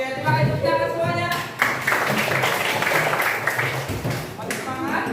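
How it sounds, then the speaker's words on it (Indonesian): A group of people claps together in a room, a dense burst of applause lasting a few seconds between stretches of voices talking. "terima kasih tepuk tangan semuanya"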